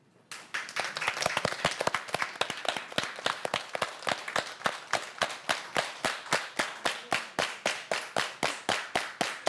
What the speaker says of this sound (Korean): 여기에 계신 다른 분의 박수 소리를 귀로 들으시면서 그 박수의 박자에 맞춰서 치시려고 노력해야 합니다